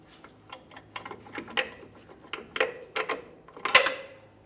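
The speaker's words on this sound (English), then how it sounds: "We'll remove each one of the mounting bolts." Ratchet clicking while removing control arm mounting bolts on a 1999-2006 Chevrolet Silverado, irregular short bursts of metallic ticks and clunks, close and fairly quiet with small pauses between strokes.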